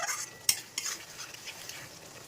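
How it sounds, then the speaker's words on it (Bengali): Spice paste for a pointed gourd and prawn curry, frying in oil while it is stirred in a pan, giving a steady bright sizzle with one sharp scrape of the spoon near the start. "এবার ফ্লেমে ভালো করে কষে নেবো।"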